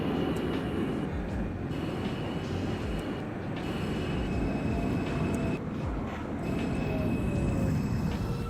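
A simulated New York subway N train arrives at Canal Street lower level in the OpenBve game, a continuous rolling rumble and wheel noise with faint screeching, held steady and moderately quiet throughout.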